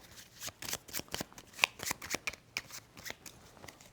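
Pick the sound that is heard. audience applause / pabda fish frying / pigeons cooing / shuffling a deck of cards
shuffling a deck of cards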